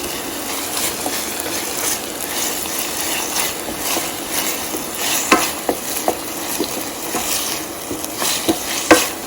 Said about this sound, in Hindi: इसको हल्का सा सौटे करेंगे